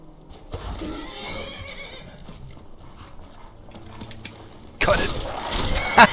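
A horse neighs in the Skyrim Dawnguard video game. A drawn-out whinny plays over faint background sounds, then a loud burst of clattering hoofbeats and thumps near the end.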